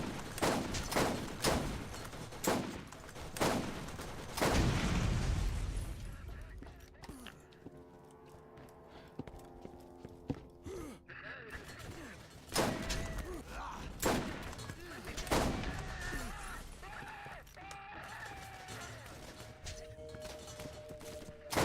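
Borderlands 1 guns firing in repeated sharp shots and short volleys, loudest early then sparser amid game ambience and echoing effects, with a voice talking at times.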